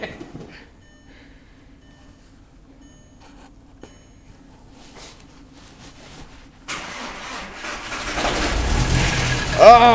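Volkswagen Jetta TDI diesel on a cold morning without a block heater: quiet at first, then the starter cranks and the engine catches and settles into a loud clattering idle that swells toward the end, with voices nearby.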